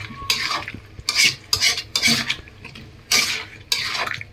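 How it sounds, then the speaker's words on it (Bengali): Potatoes and spice masala being stirred in a pot for a fish curry, a spoon scraping in about six distinct bursts with short pauses between them, close and clear. "আলু সহ মশলাটাকে একটু কষাই নিতে হবে"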